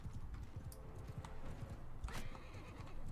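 Horse neighing in the video game Mount and Blade: Bannerlord, a brief whinny rising over a dense, steady wash of battle noise and low rumble.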